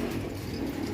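A racing pigeon at its loft gives soft, low, continuous cooing, close by and steady for the whole moment, with no speech over it.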